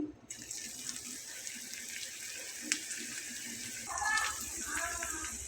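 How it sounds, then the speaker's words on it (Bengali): Onion fritters (piyaju) dropped into hot oil and starting to fry, a steady close sizzle that swells louder toward the end. "আমার তেলটা কিন্তু প্রায় গরম হয়ে গেছে তো আমি এখন পেঁয়াজিগুলো দিয়ে নেব"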